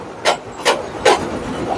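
A mallet strikes a Brunswick A2 bowling pinsetter's cross conveyor three times, each hit a sharp, loud knock at an uneven pace over faint mechanical background noise.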